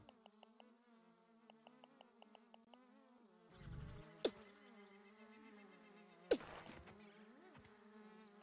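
A fly in the survival game Grounded buzzes steadily and close, its drone wavering in pitch and loudness over several seconds, broken by a few sharp clicks and knocks.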